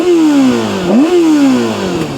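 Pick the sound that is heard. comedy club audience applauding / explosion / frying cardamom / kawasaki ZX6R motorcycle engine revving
kawasaki ZX6R motorcycle engine revving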